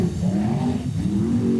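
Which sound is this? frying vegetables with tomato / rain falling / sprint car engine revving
sprint car engine revving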